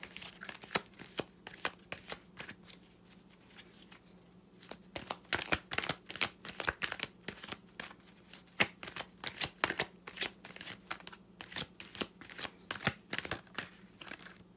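Tarot cards being shuffled by hand, a long run of crisp riffling bursts with brief pauses, close and fairly loud over a steady low hum, with no talking.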